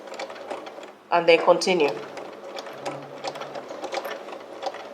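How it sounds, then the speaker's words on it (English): Sewing machine stitching fabric on a straight seam with a reverse stitch at the corner, a short burst of rapid mechanical stitching heard close up amid a steady hum, while a person talks briefly. "Sew your few stitches. Don't forget to hold your thread. Reverse on the same spot."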